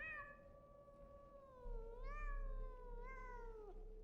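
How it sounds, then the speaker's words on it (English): Pathologic 2 game cat meowing in drawn-out, wavering cries, three rising-and-falling calls across a few seconds, fairly faint over a low rumbling background. "Shut up, cat."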